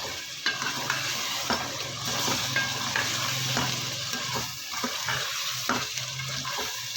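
Spices for chicken karahi being stirred in a hot pan, a steady close sizzle of frying masala broken by repeated scraping strokes of the spoon, with no talking.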